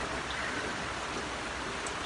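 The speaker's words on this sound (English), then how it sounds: "as you can see, it's still nasty and rainy out here" Steady rain falling outdoors on a nasty, wet day, a constant even hiss with no breaks, fairly soft and moderately distant, heard alone without any voices.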